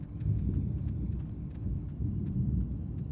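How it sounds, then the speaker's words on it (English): Distant thunder rumbles low and steady through a stormy scene in the video game Oxenfree 2, a continuous deep roll with faint crackles above it and no voices. "You can hear thunder in the distance."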